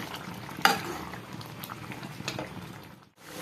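Ridge gourd gravy with kasuri methi stirred in a pan, soft scraping and gentle bubbling close by, with a brief sharp clink near the start and a short pause before it ends.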